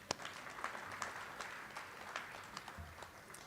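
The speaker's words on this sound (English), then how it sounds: "I'll clap for that." Scattered, faint hand claps from an audience at a Pearl Harbor Day gathering, sparse individual smacks spread unevenly over a few seconds with no talk.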